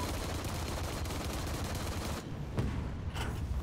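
Dense, continuous battlefield gunfire from the Heroes & Generals video game, a steady roar of overlapping shots with a brief dip and a few sharper cracks near the end, no talking.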